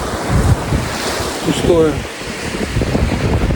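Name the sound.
sea waves on an empty beach in Albania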